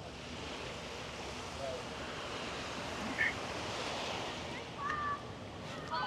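Gentle surf washes steadily onto Bangrak Beach on Koh Samui, a soft continuous roar with light wind noise and faint distant chirps.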